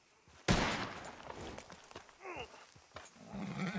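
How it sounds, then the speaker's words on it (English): Gunfire in the video game Red Dead Redemption 2: one loud, sharp shot rings out and decays, followed by quieter game sounds and faint shifting noises in an otherwise subdued scene. "Shooting."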